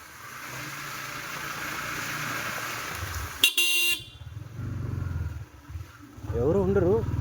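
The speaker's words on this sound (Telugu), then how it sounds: "హార్న్ కొట్టేది మన ధర్మం" A short, bright honk of under a second sounds from a motorcycle horn on a Yamaha MT-15 ride along the road, cutting through steady road and wind noise, with a voice talking around it.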